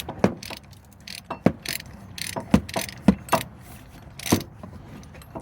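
A ratchet wrench being turned while removing ball joints from the front suspension of a 2005 Chevy, sharp irregular metallic clicks and clunks up close, with brief quiet gaps.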